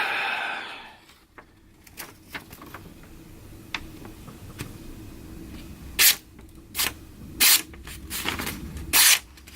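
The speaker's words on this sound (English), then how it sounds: "Do a paper test now." Freshly sharpened blade from a Lansky standard sharpening setup slicing through paper, a few short crisp swishes and slices close by, with faint ticks of handling in between.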